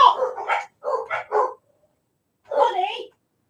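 A dog barks indoors in two close bursts of several yaps each, then a single bark after a short pause, loud and near.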